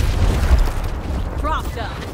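A frag grenade goes off in Gears Tactics during the Fire SAS & Dynamite mission Granite Trident, a deep rumbling boom at the start that fades into a low tail while a voice talks over it.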